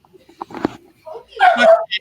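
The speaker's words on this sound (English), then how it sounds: "my dog's very excited, as you can hear him in the background." An excited dog yips and whimpers in short, high bursts close by, mixed with a person's voice in a brief indoor clip.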